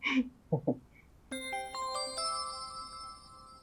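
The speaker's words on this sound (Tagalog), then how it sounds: "Si Mami nag-text." A short chiming phone text-message notification tone rings out clearly after a few brief bursts of speech and a faint blip, its bright sustained tones layering and holding to the end.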